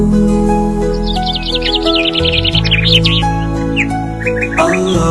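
Small birds chirp and tweet in quick rising trills over a sung Islamic children's lullaby with steady instrumental backing, the calls bright and close, in bursts across the melody.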